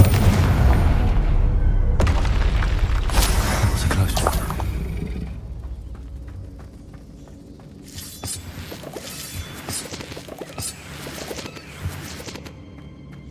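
Fiery Confringo spell blasts in the Hogwarts Legacy video game, several loud bursts and shattering impacts in quick succession, then quieter scattered crackles and pops.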